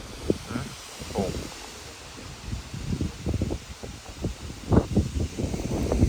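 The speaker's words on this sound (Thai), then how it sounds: "แรงเกินไปไหมลมนี่" Strong wind blows outdoors where planting equipment is set up, a continuous gusty roar with rustling and buffeting bursts against the microphone.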